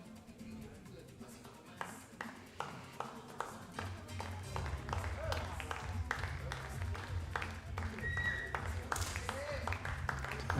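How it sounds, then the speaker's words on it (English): Spectators cheer and clap in bursts during a 10 m air pistol final, with scattered sharp claps and a rising crowd murmur over a steady low hum, growing louder toward the end; voices are heard among the noise. "the others start to cheering a little bit and make noise to support their athlete"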